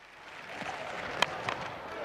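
A cricket crowd at the Sydney Test between Australia and South Africa roars and applauds after a well-hit shot down the ground, a broad swell of cheering and clapping with a few sharp peaks.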